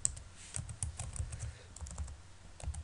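Quick, light keystrokes on a computer keyboard while code is entered, soft irregular clicks close by in a quiet room.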